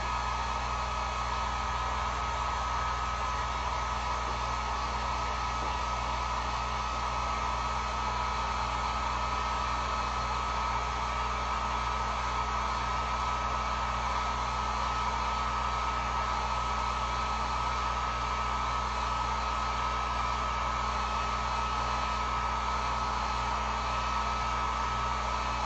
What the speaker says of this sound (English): I'm gonna hit this just real quick with the heat gun